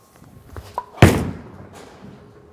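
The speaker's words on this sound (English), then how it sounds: "let's throw one more shot from there." A bowling ball released onto the lane lands with a single sharp, heavy thud, then rumbles away and fades, preceded by a few soft taps and footsteps at an alley.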